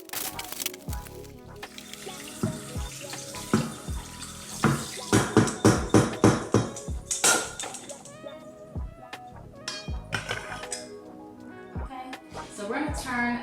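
Water from a kitchen tap pours through food sitting in a strainer while preparing steak bites, a busy run of splashes and clattering drips with voices talking over it.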